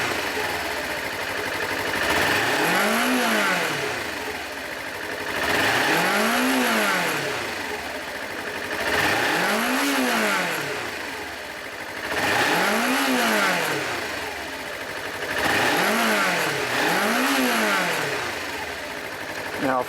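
A Suzuki Inazuma GW250 motorcycle engine is revved repeatedly, climbing and falling in about six loud, close rev cycles over a steady running drone, with no talk.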